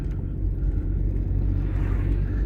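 Low, steady engine rumble of a car climbing a road through Halifax toward Lee Mount, a continuous near drone with no voices.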